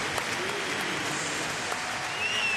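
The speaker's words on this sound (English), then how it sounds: "the crowd is on its feet" A ballpark crowd at a Padres–Nationals game stands and applauds in a steady, broad wash of clapping and cheering, with a few brief whistles near the end.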